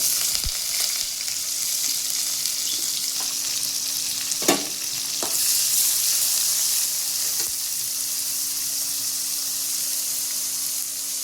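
Green chilies, onion and curry leaves frying in hot oil with mustard seeds for a chutney, giving a steady close sizzle throughout with a few sharp spoon-stirring knocks against the pan.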